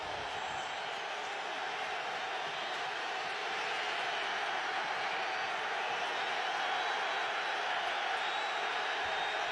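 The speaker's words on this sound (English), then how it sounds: "Raider crowd in full throat on their feet to start this game." Oakland Raiders crowd at an NFL game against the Dallas Cowboys, a broad, sustained roar from fans on their feet at kickoff, distant and steady throughout.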